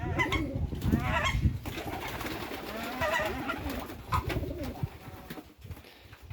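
Captive turtle doves and pigeons on a French poultry and vegetable smallholding coo repeatedly in overlapping, rhythmic calls, close and fairly loud, with no speech.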